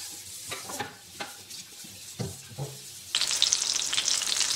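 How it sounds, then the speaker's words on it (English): Cakes frying in an iron pan give a few soft stirring knocks, then break into a loud, steady hissing sizzle that carries through to the end, close and with no voices. "I wanna hear more of a sizzle than that."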